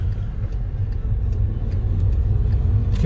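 A turbocharged Volkswagen Jetta climbs an uphill road, its engine a steady low rumble with road noise that holds constant and close throughout, with no voices.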